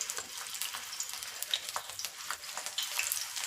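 Aloo tikki potato patties fry in hot oil on a lowered gas flame, giving a soft, continuous crackling sizzle with small popping spits throughout.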